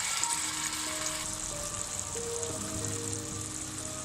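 A ground paste of garlic, ginger, onion and tomato fries in a pan with a soft, even sizzle that holds steady throughout. Faint tonal hums sit underneath.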